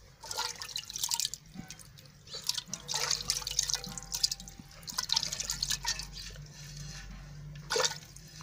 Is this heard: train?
no